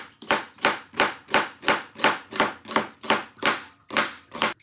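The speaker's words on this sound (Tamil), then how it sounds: "நான் வெங்காயம் ஃபுல்லாக வெட்டிட்டேன் நல்லபடி இப்படி மெல்லிசாக தான் ஒரே மாதிரியே பொறிவர் வெட்டிட்டேன்" Onion being sliced thinly with a knife on a board for dried tuna coconut sambal, about a dozen crisp, evenly spaced cuts in a steady rhythm, close and clear with no voices.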